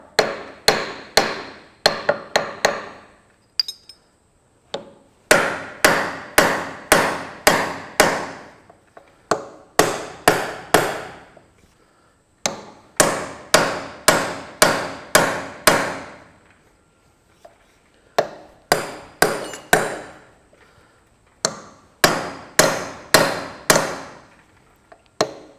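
A hammer taps repeatedly on the front steering pivot of a Massey Ferguson 65 tractor, sharp close metallic blows falling in quick bursts of several strikes separated by short pauses.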